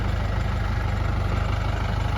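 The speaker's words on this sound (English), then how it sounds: "Clutch doesn't work on this tractor, so sometimes we can't get it out of gear." Tractor with a faulty clutch, its engine running at a steady idle: a loud, continuous low rumble with a regular throbbing pulse, close by and with no talking.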